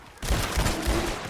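Burst of rapid gunfire in a roleplay video game, a dense, loud volley of overlapping shots sustained for just over a second.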